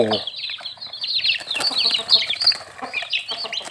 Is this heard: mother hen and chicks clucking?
yes